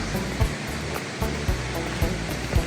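The waterfall in Lynn Canyon, Vancouver, roars as a constant broadband rush of falling water, loud and close, with faint low thumps recurring beneath the steady wash.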